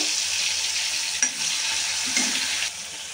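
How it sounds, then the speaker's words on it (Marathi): Crushed garlic and green chili paste fries in hot oil with a dense, even sizzle, broken by a couple of soft stirring knocks near the pan. "गरम झालंय आणि त्यामध्ये मी आता हे आपण लसण आणि मिरचीचा ठेचा करून टाकतो"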